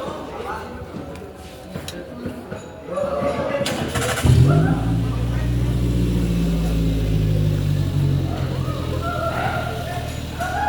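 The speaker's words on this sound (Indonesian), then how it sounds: "kita hidupkan mesin lagi." An engine is started up again during practical work on a lift's SBE system, catching after a short crank and settling into a steady, loud, close idle rumble. A voice talks quietly just before the start.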